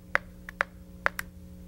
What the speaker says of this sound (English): You can also use a metronome to keep your tempo steady.